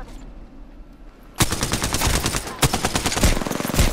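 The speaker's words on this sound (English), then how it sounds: "Oh, I'm missing every bullet." Gunfire in Apex Legends, a loud burst of rapid automatic shots that starts abruptly after a quiet moment and keeps going in a dense stream with a few heavier cracks.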